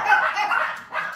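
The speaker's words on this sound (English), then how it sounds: "Oh, yeah, go out and bark." A dog barks indoors at home, a quick close run of sharp yaps lasting about a second, agitated by delivery men during the Christmas season.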